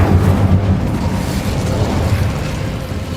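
A fire spell cast in Hogwarts Legacy gives a dense, roaring burst that slowly fades over about three seconds, loud and close with no voices.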